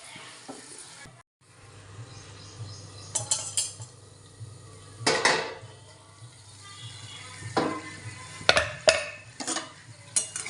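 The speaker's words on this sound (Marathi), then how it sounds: "आता परत मिक्स करून घेऊ" Field beans (ghevda) being stirred and mixed in a pan on the stove, with a soft background sizzle and scattered scrapes and clinks of a spoon against the metal that grow busier toward the end.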